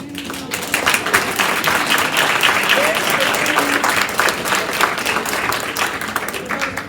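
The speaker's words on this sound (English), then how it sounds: "They deserve a round of applause." A crowd applauds with dense, sustained clapping that swells and stays loud throughout, with some voices and cheers mixed in.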